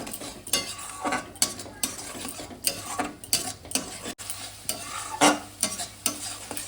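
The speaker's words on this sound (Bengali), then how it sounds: "দইটা দিয়ে আমি আবারও মিনিট খানেক কষিয়ে নেব, যতক্ষণ না তেল ছেড়ে দিচ্ছে মশলা" Spice paste mixed with yogurt is stirred and fried in oil for a fish curry, with repeated scraping strokes of a spoon against the pan over a steady low sizzle, close and fairly quiet, no voices.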